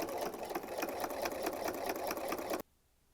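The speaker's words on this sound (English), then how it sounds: "I'm just going to go ahead and do a regular straight stitch, doing some back stitches, and then just stitch it down." Sewing machine straight-stitching bias tape onto a fabric oven mitt, a fast steady mechanical rattle of close needle strokes that runs continuously, then stops abruptly into near silence.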